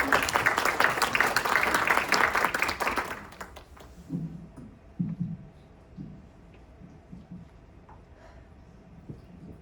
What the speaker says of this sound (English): Can we have a round of applause?